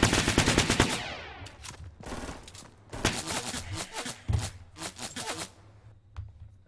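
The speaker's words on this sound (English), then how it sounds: "He's got a little Uzi." Bursts of rapid automatic Uzi fire in a Fortnite battle royale match, loud clustered volleys with brief gaps, mixed with other game sounds.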